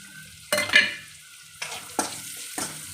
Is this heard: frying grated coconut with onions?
yes